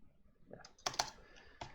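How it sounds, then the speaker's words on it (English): Fingers type on a computer keyboard in a short run of quiet, close clicks with a few sharper keystrokes standing out. "Typing is hard."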